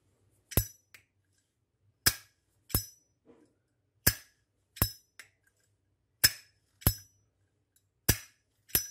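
The lid of a premium Japanese-export Zippo lighter snaps open and shut about ten times, each a sharp, crisp metallic click, close-up and set apart by short pauses in a quiet room.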